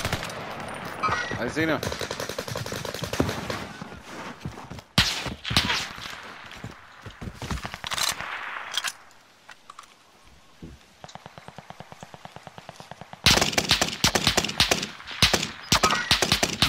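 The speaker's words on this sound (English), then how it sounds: "I'm taking fire!" Gunfire in the Call of Duty Warzone video game: bursts of rapid automatic fire and single shots, loud and close, broken by short pauses, with a brief voice and radio-style chatter in between.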